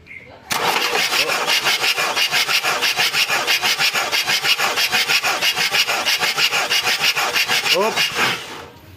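A Mitsubishi L200 diesel engine cranks on its starter during a compression test with one injector nozzle removed, making a rapid, even rhythmic chugging for about eight seconds, close and loud, with a brief voice near the end.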